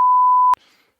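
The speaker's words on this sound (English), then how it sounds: "I'll do a long beep." A loud, steady, single-pitched censor beep lasts about half a second and cuts off abruptly into near silence.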